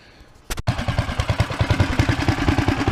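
A 420cc go-kart engine with a new muffler fires up after a sharp thump and runs at a fast, loud, pulsing idle right up close, a rapid even chug that stays strong throughout.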